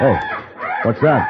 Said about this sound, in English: That's the cry of the Pavo Cristatus.